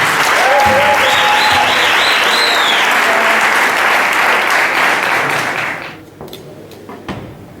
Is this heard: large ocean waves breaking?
no